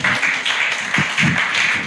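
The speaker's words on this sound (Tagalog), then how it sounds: "Pumalakpak sa Panginoon." A church congregation claps together in an ongoing burst of applause, dense and close, with rhythmic swells of hand claps and no clear talk over them.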